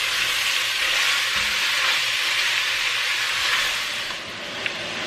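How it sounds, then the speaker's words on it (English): Ground beef and hot Italian sausage frying in a pan over medium heat, a loud, steady crackling sizzle with occasional stirring that runs without pause. "you're going to go ahead and cook your ground meat over medium heat"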